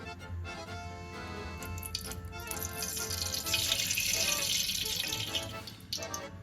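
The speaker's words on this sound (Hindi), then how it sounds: "अब इसमें मैं ये आधा कप ऑयल डाल रही हूँ" Half a cup of oil is poured into a heated cooking pot on a stovetop, a steady liquid stream with a rising sizzling hiss that builds through the middle and fades near the end.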